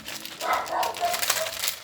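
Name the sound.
dog barking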